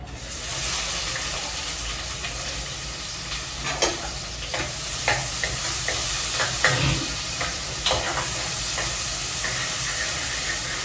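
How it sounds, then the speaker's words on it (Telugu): Onions sizzle steadily in hot oil after cloves and star anise have crackled, for the base of a rajma curry, with a constant hiss and occasional clinks of a spoon stirring through the pan. "ఈ విధంగా నూనెలో బాగా వేడి అయినంత వరకు వేసంగానే మంచిగా ఫ్రై అవుతున్నాయి"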